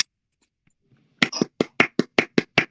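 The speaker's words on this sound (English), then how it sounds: "Group clap." A group claps hands together in a steady beat, about eight loud, crisp claps in even rhythm after a moment of near silence.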